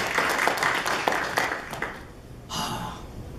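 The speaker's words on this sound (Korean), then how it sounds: "외교부에 우리 따뜻한 박수 한번 더 합시다" An audience claps warmly at a business association's officer installation ceremony, a dense patter of hands for about two seconds that thins out, followed by a brief murmur.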